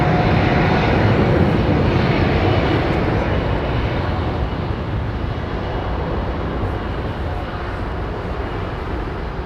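Airliner jet engines roar at London Heathrow Airport, a loud, broad continuous rumble that fades slowly as the aircraft moves away, with no clear talk over it.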